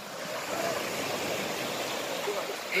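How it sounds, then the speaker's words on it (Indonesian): Ocean waves washing up on a shore, a steady close rush of surf and foam with a soft broadband hiss throughout, mostly alone with a faint voice near the end. "Lihatin ini ombaknya sampai sini."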